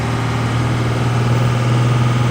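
A Ford F250 turbo engine runs while driving, a steady heavy low rumble with constant vibration filling the cabin, loud and close, with no talk.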